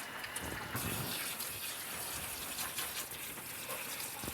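Steady running water at low pressure gushes and splashes continuously onto a Maltese dog's coat, close and fairly loud, with no talking.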